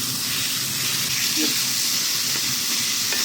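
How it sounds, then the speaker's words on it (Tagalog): Minced beef fries in a pan with sautéed onion and carrots for a classic beef lasagna, making a loud, dense, continuous sizzle with steady crackle and stirring underneath, no voices. "nilagay ko na rin yung minced beef. Sa pinisa kong onion at saka carrots."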